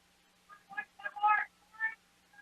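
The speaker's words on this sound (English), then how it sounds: "And somebody's getting a phone call." A phone ringing in the stands at a baseball game, a faint electronic melody of short chirping tones in bursts of varying pitch, heard softly in the distance over quiet background.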